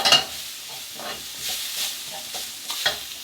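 A pan of frying onions and garlic for a vegan stuffed pepper dish gets a quick stir. Several scrapes and pushes of a utensil ride over a soft sizzle, up close.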